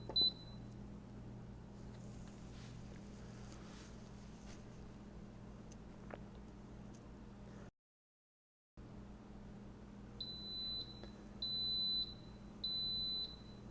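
An Instant Pot pressure cooker beeps while its timer is set for Mexican pulled pork. A single short beep comes early, then a quiet pause, then three evenly spaced electronic beeps near the end in a quiet kitchen.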